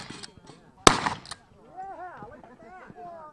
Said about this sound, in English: He's loading his shotgun. This is a pump shotgun.